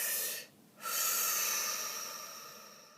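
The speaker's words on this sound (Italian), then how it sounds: "facciamo un bel respiro." Someone draws a deep breath close to the mic: a long airy inhale and exhale with a brief pause, alone and fairly soft.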